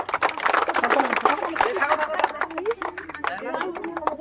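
A crowd claps for a consolation prize at a food-eating challenge game with lychee, mango and fuchka, the scattered hand claps mixed with lively chatter and a voice speaking over them.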